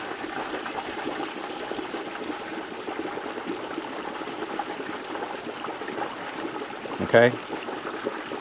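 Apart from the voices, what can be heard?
turkey slowly lowered into hot grease in a propane fryer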